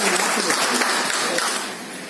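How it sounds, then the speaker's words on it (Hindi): An audience at a special program on multiple sources of income applauds the RBC system, a dense burst of clapping that stays loud for a couple of seconds and then begins to fade. "RBC सिस्टम के लिए तालियां होनी चाहिए।"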